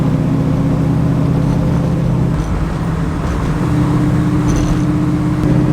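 A 1967 Camaro with an automatic transmission cruises at about 55 mph and 3,000 RPM, its engine holding a steady, loud drone with road rumble throughout and no voices.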